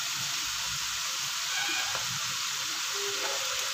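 Carrots, beans and bell peppers fry for paneer fried rice in a pan, giving a constant close hiss and sizzle with faint stirring scrapes and no voices.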